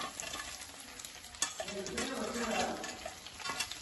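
Chennangi leaves and curry leaves are stirred in a frying pan, with a soft sizzle and faint scraping strokes close by, fairly quiet throughout.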